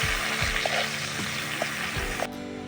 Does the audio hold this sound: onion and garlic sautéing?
yes